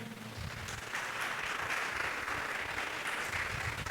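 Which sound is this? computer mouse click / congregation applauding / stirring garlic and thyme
congregation applauding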